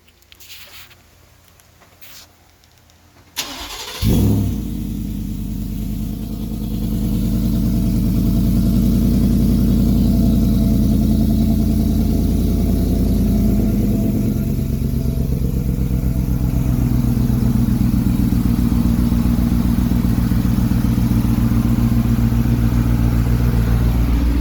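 A car engine cranks over, catches after a brief pause, and then settles into a steady, loud, close idle that holds evenly for about twenty seconds.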